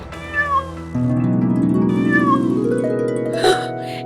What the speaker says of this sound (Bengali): এই তো আমার ম্যাও ম্যাও।